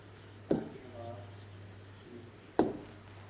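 Two short scratchy strokes of a pen writing by hand during a class 5 maths lesson on fractions, faint and close, with a steady low hum underneath.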